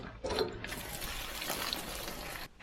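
Coolant water gushes out of a loose water pump hose on an old tractor, a sudden near splash and steady pour that runs for about two seconds and then stops.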